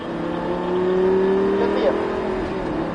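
A Lamborghini LP560 accelerates on the Folembray race circuit during a driving course, its engine note rising steadily and loudly as an instructor talks over it.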